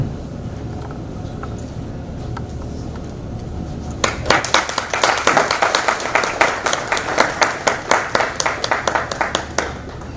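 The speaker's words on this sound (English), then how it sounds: "One more round of applause for Ravi, please." Audience applause for a speaker at an enterprise services and digital transformation summit, starting abruptly after a quiet room and continuing as steady, fairly close clapping from a moderate crowd for about six seconds.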